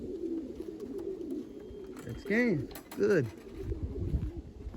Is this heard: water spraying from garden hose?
no